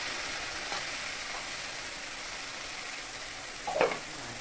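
Mustard and poppy seed paste sizzles faintly in a pan with fried banana stem, a soft steady crackle with a brief louder scrape of stirring near the end.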